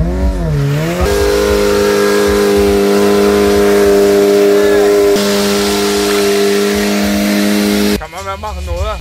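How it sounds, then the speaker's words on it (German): A motorcycle engine is held at high, steady revs while the rear tire spins in a burnout, loud and close, with the pitch shifting at the start and end. Voices are heard over it. "Er burnt hier einfach meinen Reifen."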